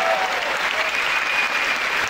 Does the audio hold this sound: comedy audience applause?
yes